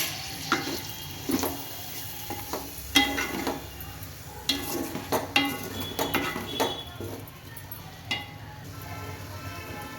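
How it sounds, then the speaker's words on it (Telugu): Turmeric and spices frying in a pan for a raw mango curry, with steady sizzling under scattered clinks and scrapes of a spoon against the pan, close and moderately loud, no voices. "ఇందులోనే ఒక అర చెంచా పసుపు కూడా వేసుకుందాం. 2 నిమిషాలు వేయించుకుంటే సరిపోతుంది."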